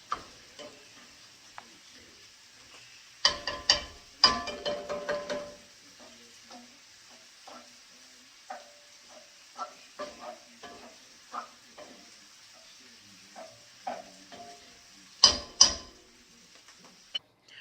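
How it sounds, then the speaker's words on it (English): Ground beef frying in a pan with bursts of sizzling and stirring scrapes, a few loud flurries separated by quieter spells of faint crackle and occasional clicks of the utensil against the pan. "And we're going to have a pretty clean pan by the time this ground beef is cooked completely"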